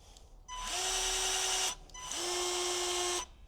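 A Ryobi 18V battery bypass pruner runs through two motorised cutting cycles, each a loud, steady electric whine rising in pitch and then stopping, with a short pause between them.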